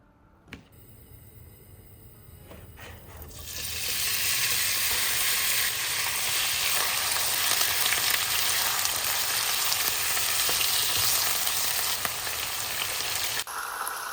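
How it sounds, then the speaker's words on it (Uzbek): After a few quiet seconds, thin beef slices hit a hot pan and a loud, steady sizzle takes over and continues. "laham mol go'shtini videodagidek ingichka parrak qilib to'g'rab, qovurib olamiz"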